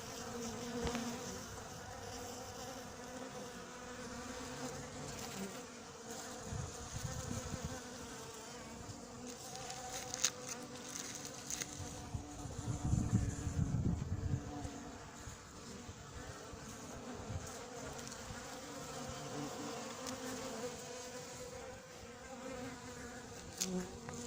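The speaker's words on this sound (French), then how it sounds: "Là, les abeilles qui s'intéressent au sucre, surtout quand il est frais." Bees, including Buckfast and black bees, swarm around fresh sugar with a small hornet among them inside a tent in the morning, giving a continuous layered buzzing with individual insects swelling nearer and fading off.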